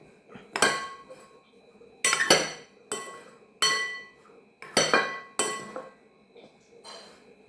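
A utensil working salted food in a metal pot, giving six or seven sharp, ringing clanks spaced about a second apart, with quiet pauses between strikes.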